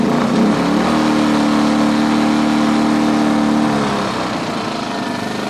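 Older Champion 2000W portable generator running steadily in economy mode after carburetor repair, a close, even mid-pitched engine drone that drops slightly in level near the end.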